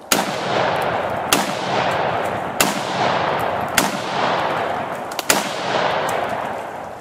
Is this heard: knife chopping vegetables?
no